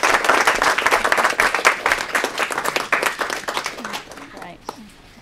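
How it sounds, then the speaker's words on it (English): An audience at a talk on women's participation and power applauds, dense clapping close and loud for about four seconds before thinning out to a few last claps. "Can we have a round of applause?"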